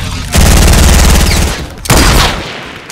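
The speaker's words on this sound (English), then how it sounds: "Another team shooting us in the back, Harry, just leave." Another team fires on the squad in a Fortnite Battle Royale match: loud, dense bursts of rapid gunfire crackle in two volleys separated by a short gap.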